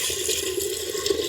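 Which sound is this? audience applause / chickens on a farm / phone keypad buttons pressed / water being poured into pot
water being poured into pot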